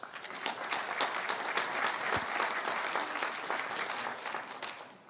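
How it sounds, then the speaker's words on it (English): An audience at a CISO panel at a Detroit cybersecurity conference applauds the panelists, a dense, steady round of clapping that holds loud throughout the whole stretch with no voices over it. "a special round of applause for the wonderful panelists too as well"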